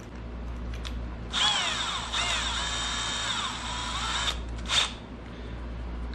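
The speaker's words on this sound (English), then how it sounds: "Drill the pilot hole." A power drill bores a pilot hole in metal, its whine rising and holding for about three seconds with a short second burst afterward, loud and near over a low background hum.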